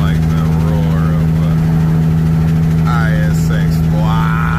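A Kenworth W900 truck with a Cummins ISX engine drones steadily with a deep, constant rumble while moving, and someone speaks briefly over it.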